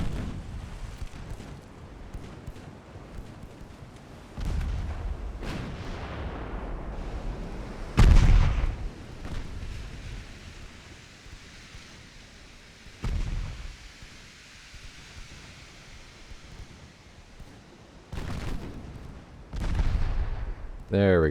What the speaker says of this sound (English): 6 and 7-inch guns, putting in the work.